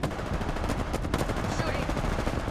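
Apex Legends gunfire: dense, continuous rapid automatic shots, loud and close, pile up throughout the clip with no break in the firing.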